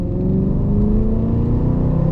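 A naturally aspirated BMW M3 engine pulls hard at full throttle in third gear from around 2000 RPM, a steady, loud, close drone with its pitch rising gradually and no voices over it.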